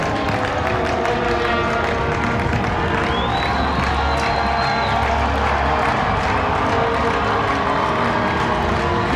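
A large crowd at a school U18 rugby semi-final cheers and shouts continuously, loud and close, with a whistle-like tone briefly cutting through the roar.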